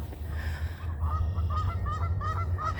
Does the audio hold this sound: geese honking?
yes